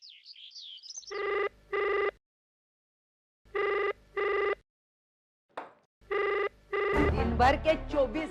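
A telephone rings in repeated double bursts with short silences between, fairly close, followed by a voice beginning to speak at the end.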